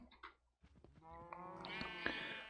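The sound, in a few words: sheep bleating in Minecraft video game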